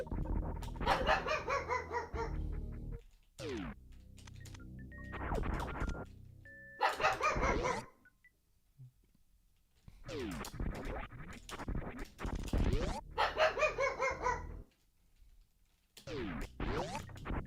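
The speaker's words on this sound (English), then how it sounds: "Bark, bark, bark." An indoor dog barks at people downstairs in repeated bursts of several sharp barks, loud and close, with brief quiet gaps between volleys and some scratching or clattering between them.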